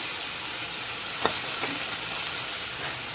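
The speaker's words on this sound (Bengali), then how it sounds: "এই যে লুচি বসানো আছে লুচি রান্না করছি" Luchi, puffed flatbread, fries in hot oil with a steady close sizzle throughout, a brief sharper crackle or pop near the middle; no voices.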